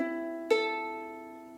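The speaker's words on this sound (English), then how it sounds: "If your uke is tuned, it would sound like this." A single strum across the strings of a tuned ukulele, opening with a bright attack and then ringing out in a steady, slowly fading chord, close with no voices.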